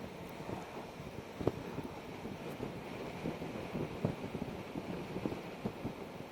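Wind blowing steadily outdoors, a broad rumbling rush that buffets the microphone in irregular gusts, with a few brief knocks and no talking.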